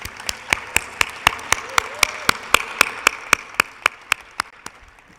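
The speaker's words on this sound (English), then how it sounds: "let's give a round of applause to the CCA staff" A summit closing ceremony audience claps for the conference staff. The individual claps come at a steady, fairly slow rhythm, sharp and distinct, with a faint room murmur beneath them.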